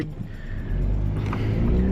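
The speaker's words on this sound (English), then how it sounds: "It's pretty traffic here. We're almost there. I can see cars around" Car traffic on a city road, a low steady rumble of passing vehicles with one engine swelling as it accelerates nearby, and no talk.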